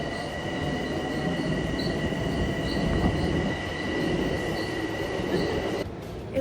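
A train at a station rumbles and hums steadily at close range, with a high metallic whine and faint squeal of wheels, then the noise briefly drops near the end.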